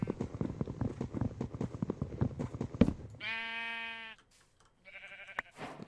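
Minecraft sheep bleating in the video game, preceded by a rapid run of clicking footstep-like game sounds, then two distinct synthetic bleats heard alone, clear and close.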